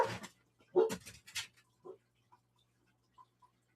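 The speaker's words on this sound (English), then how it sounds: "Damn dogs." Dogs bark in short bursts, several loud yaps close together near the start, then a few fainter, scattered barks and whimpers trailing off over a low steady hum.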